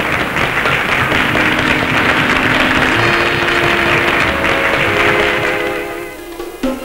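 Circus gala audience applauding in a dense, roaring wave that holds steady for several seconds, with music tones underneath, then thins out toward the end.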